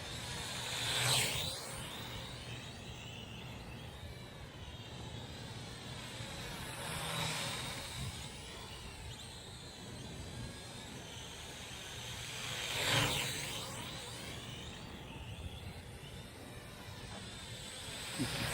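A JJRC H39WH Cygnus drone flies past at night several times, its whining propeller buzz swelling as it nears and fading away after each pass, set against quiet surroundings.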